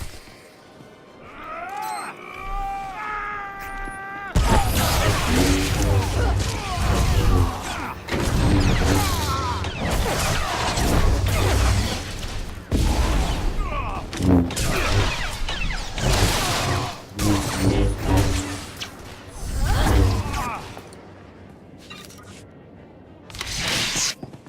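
Blaster gunfire in Star Wars: The Old Republic, a loud barrage of sharp cracks and booming hits that erupts after a brief voice and keeps firing in bursts with short pauses.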